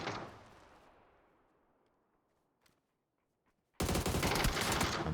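Gunfire in the PUBG video game: a shot's echo fades out at the start, a quiet gap follows with a faint thud, and then a sudden, loud, sustained burst of rapid automatic fire fills the final second.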